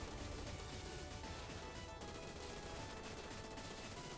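Arcade action from Super Contra, with the level 2 machine gun firing steadily in a dense, continuous stream of rapid shots that blend into the game's explosions and music, loud and unbroken.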